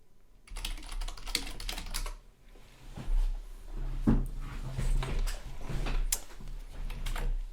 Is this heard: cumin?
no